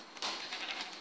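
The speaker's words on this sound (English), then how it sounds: "kill the sheep." A single sheep bleats once in Minecraft, a short, wavering electronic baa heard alone and fairly close.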